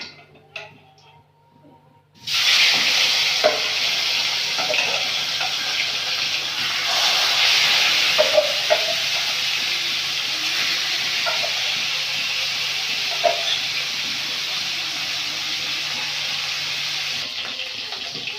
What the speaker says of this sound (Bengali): কড়াইটা গরম হয়ে গেছে, মাছগুলো ভেজে নেব।